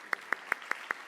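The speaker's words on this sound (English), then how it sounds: "One more round of applause for our speakers." At an annual meeting plenary session, claps ring out in a sparse, regular rhythm of about six sharp slaps, fairly close and even in spacing.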